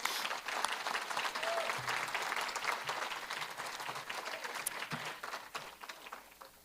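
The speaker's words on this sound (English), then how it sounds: "round of applause" Applause from an event audience recognizing the staff who organize a yearly remembrance celebration; quiet, distant-sounding sustained clapping that continues evenly throughout.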